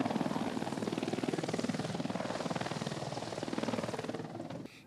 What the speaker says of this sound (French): Nous prenons place à bord de l'hélicoptère.